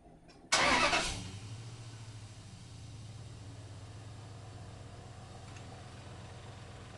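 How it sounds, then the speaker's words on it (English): Car engine starting during a fuel injector test: a loud cranking burst of about half a second, then the engine settles into a steady, fairly quiet idle hum. "I'm going to go ahead and start the vehicle."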